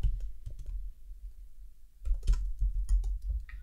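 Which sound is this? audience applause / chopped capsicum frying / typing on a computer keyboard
typing on a computer keyboard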